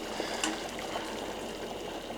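Water trickling and gurgling softly as a tomato is dipped into hot water to loosen its skin, a faint steady stream of small splashes with no talking.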